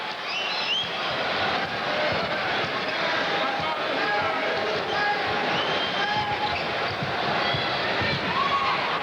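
Arena crowd roaring steadily at a 1987 Mavericks–Bulls basketball game in Chicago, a dense continuous wall of noise with a play-by-play announcer talking over it throughout.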